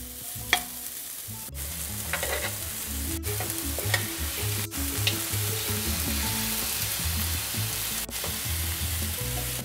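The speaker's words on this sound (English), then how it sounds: "I'm gonna toss these around until they get slightly translucent" Julienned onion sautéing in hot oil, a continuous close sizzle with occasional sharp clicks as the pieces are tossed and stirred in the pan.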